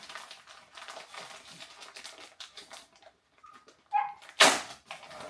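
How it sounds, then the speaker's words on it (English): A Wheaten Terrier barks indoors, a couple of sharp loud yelps near the end after quieter rustling and handling noises. "Apologies again for the dog barking."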